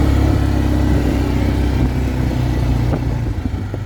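An Arctic Cat automatic utility four-wheeler runs in high gear, its engine a steady, loud, close drone with a low throb that holds evenly throughout.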